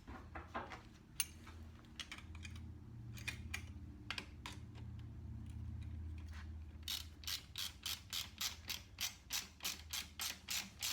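Rapid ratcheting clicks from a socket wrench tightening a bolt on a Norton Commando 750 motorcycle during restoration work, starting as scattered mechanical clicks and turning into a steady, evenly spaced run of sharp close ticks.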